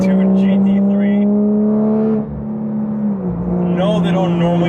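A Porsche 992 911 GT3 with a Soul Performance race exhaust holds a loud, steady high-pitched drone, dips, then revs back up with a rising whine, close by and continuous.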